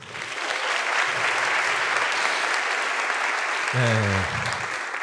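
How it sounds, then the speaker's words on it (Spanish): Loud, sustained applause from an audience, with a voice breaking in briefly toward the end. "un aplauso para mi tía"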